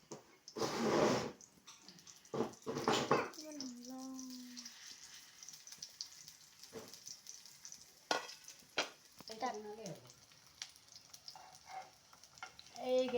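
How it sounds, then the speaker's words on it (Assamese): Small pieces of colocasia leaf roll fry in oil in a pan, with a soft sizzle running throughout, punctuated by scraping stirs and clinks and a few brief bursts of voice. "তেলত অকণ অকণকৈ ফ্ৰাই কৰিব"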